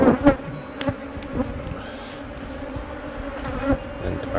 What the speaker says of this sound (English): these bees are not happy with me whatsoever